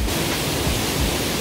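Waterfall at the second Yongso pool in Deokpung Valley's canyon pours in a steady, loud, close roar of rushing water, filling the whole moment with dense, unbroken noise.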